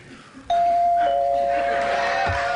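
A doorbell at G.E. headquarters rings with one loud, sustained electronic chime that starts suddenly and holds steady, with faint voices murmuring in the background.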